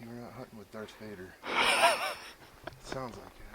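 Close, heavy breathing from an elk hunter hiking up a mountain in New Mexico, with a raspy burst of breaths in the middle and someone talking before and after it.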